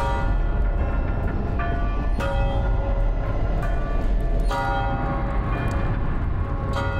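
A bell rings in Death Stranding, with repeated clanging, metallic strikes that carry long tonal overtones over a dense, loud, rumbling backdrop.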